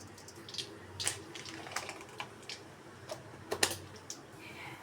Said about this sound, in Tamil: கடுகு போட்டுக்கோங்க.